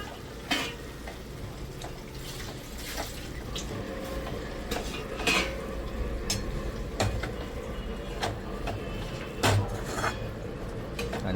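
Banana flower curry with grated coconut stirred in a pan, steady close scraping and clinking of a spoon against metal over a low sizzle, with several sharper knocks spread throughout.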